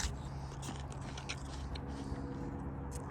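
Yellow Transparent or Discovery apple bitten and chewed: steady, soft crunching and wet crackling throughout, close to the mic and fairly quiet, with no talking.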